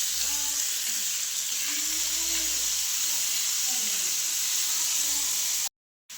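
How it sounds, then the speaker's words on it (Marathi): Onion fries in a pan until reddish, a loud, constant sizzle and hiss with a few faint low murmurs underneath, stopping suddenly near the end. "कांदा चांगला आता लाल भाजून घेते"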